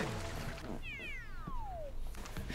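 A single cat meow sounds in Super Mario Maker 2, one clear falling cry near the middle over busy game background noise.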